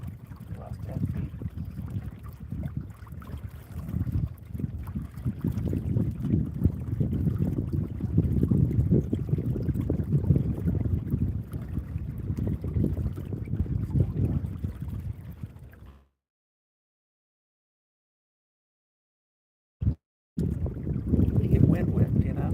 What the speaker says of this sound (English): the wind howls in your own ears